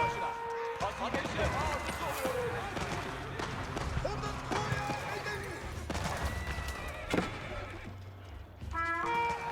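Rapid gunfire cutting down traders in Age of Empires 4, with dense cracking shots and clatter in a busy battle mix, horse whinnies and unit sounds scattered through, all under continuous commentary.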